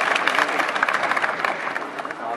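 Audience applause at a Chhatrapati Shivaji Maharaj Jayanti celebration and prize-distribution gathering, dense steady clapping from a crowd filling the whole moment.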